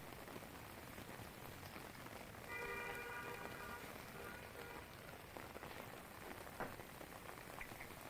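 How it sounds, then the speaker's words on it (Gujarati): Heavy rain pours down steadily in Rajpipla, Gujarat, a dense even hiss of drops striking surfaces. A faint vehicle horn sounds briefly in the middle distance. "ધોધમાર વરસાદ વરસ્યો"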